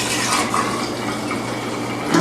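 Spring water from a store-bought jug pours steadily into a container of water kefir with sugar, a continuous close splashing wash.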